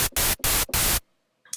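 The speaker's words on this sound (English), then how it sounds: "and there it is, some white noise." Bursts of white noise from the Massive software synthesizer, three loud broadband hiss blocks separated by brief gaps, then silence and a short fainter burst at the end.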